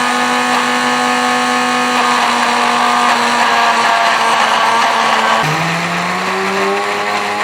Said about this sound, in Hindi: ब्लेंडर जार को ऐड करने के बाद इसको स्टार्ट कर देंगे।